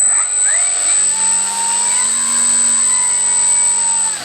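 E-Flite Cirrus SR22T RC airplane electric motor running at about 15% throttle, a steady high whine with a droning hum, close and continuous with no talk.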